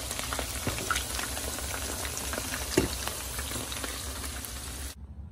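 Chicken fries in hot oil with a steady, fairly quiet bubbling sizzle and a few faint clinks. The sound cuts off abruptly near the end.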